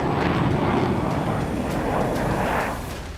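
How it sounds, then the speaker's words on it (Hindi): F-15-type fighter jets flying overhead in the skies over Jordan and Oman produce a loud, steady broadband roar that holds for about three seconds and eases slightly at the end, with no talking. "जॉर्डन, ओमान के आसमान में F-15 जैसे लड़ाकू विमान उड़ान भरते दिखाई दे रहे हैं।"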